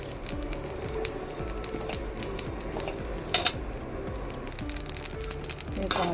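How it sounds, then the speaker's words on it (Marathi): Cumin seeds crackle and pop while dry roasting in a pan, a dense, steady sizzling patter with occasional louder ticks of a spoon or spatula against the metal. "जिऱ्याचा बघा तडतडा आवाज यायला लागला आहे"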